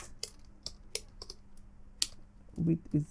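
Computer keyboard typing while writing HTML and CSS code: sparse key clicks and taps spread across a few seconds, quiet and close, with a couple of soft low thumps near the end.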